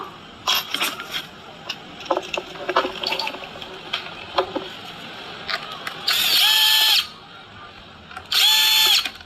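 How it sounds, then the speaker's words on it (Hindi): Nuts are loosened with a power tool to free the fan motor from an LG refrigerator, with short bursts of mechanical whirring and clicks followed by two sustained loud drill runs near the end. "तो हमने वहाँ पर 2 नट खोल लिया, फिर फ़ैन मोटर को वहाँ से उतार लिए।"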